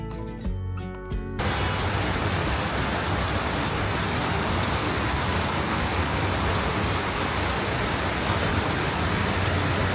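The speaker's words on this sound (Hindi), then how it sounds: "मेरे पीछे बारिश बहुत तेज़ हो रही है इस समय यहाँ पे तिरुवनंतपुरम में" Heavy rain pours steadily in Thiruvananthapuram, a dense, continuous hiss of drops on surfaces that fills the whole scene after a brief quieter opening, loud and close with no talking.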